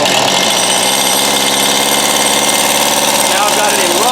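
A Stihl MS171 chainsaw engine runs loud and close, with a continuous buzzing two-stroke drone that fills the whole clip, its pitch shifting slightly near the end.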